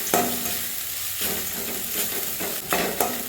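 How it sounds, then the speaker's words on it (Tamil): Grated coconut roasts in a pan with cardamom, fennel and pepper, giving a steady dry sizzle and repeated scraping stirs of the spatula, several sharp scrapes standing out toward the end; no talking. "தேங்காயை நல்லா செவக்க வறுத்துடணும்."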